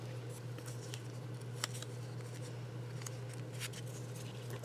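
Scissors snip through fabric for swatch samples, a series of soft, quick cuts over a steady low hum, faint and close.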